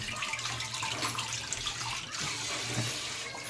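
Tap water runs continuously into a sink while dishes are washed, a steady close splashing rush with faint clinks.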